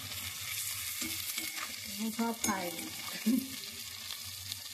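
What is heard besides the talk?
bitter gourd (uchhe) frying in a pan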